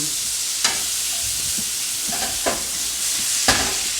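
Sweet peppers dropped into hot meat drippings in a pan, a loud continuous sizzle up close punctuated by several sharp scraping and stirring knocks spread across the stretch, no voices.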